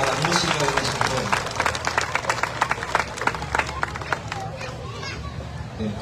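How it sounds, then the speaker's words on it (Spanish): A crowd applauds at a community tribute to long-serving local musicians in San Marcos, steady clapping mixed with cheering and chatter, loud and continuous throughout. "le pido que le demos un aplauso a estos grandes hombres que le han dado vida a la música de nuestro pueblo"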